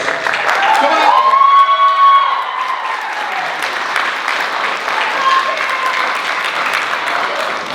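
An audience at a college unplugged music show cheers and applauds loudly for a birthday performer, with whoops and shouts over steady clapping that continues at a slightly lower level.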